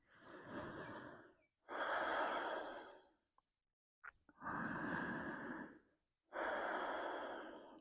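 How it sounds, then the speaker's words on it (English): Slow, deep breaths during a yoga session, long whooshing inhales and exhales in an even rhythm with short silent pauses between them, close and soft. "We'll take 2 more breaths here."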